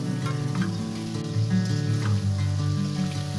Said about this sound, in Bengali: মশলার উপরে তেল ভেসে উঠলে দিয়ে দিচ্ছি কাচকি শুটকিগুলো, সাথে দিচ্ছি কেটে রাখা আলু কুচি।